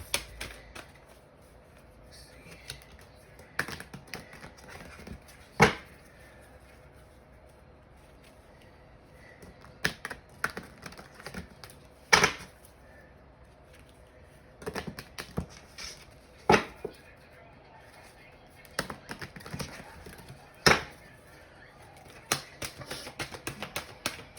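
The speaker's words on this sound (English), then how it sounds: "Shuffle again since I dropped my cards." A deck of oracle cards is shuffled by hand in a quiet room, scattered soft riffling bursts and sharp snapping taps spaced a few seconds apart over a low, hushed background.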